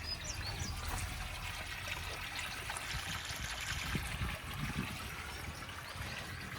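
Water trickles and gurgles steadily nearby, a soft continuous flow into a banana field with faint outdoor ambience and no talking.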